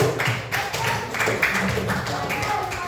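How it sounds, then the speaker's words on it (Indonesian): Classroom audience clapping hands in a quick patter of light claps, mixed with voices talking at the same time. "Beri tepuk tangan dulu ke Olivia."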